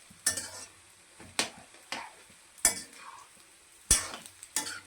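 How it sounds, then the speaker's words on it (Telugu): Boiled eggs fry in oil for an egg pickle, a quiet sizzle punctuated by about six sharp metallic clanks and scrapes of a spoon against the pan at irregular intervals. "నూనెలో బాగా ఏగాలి"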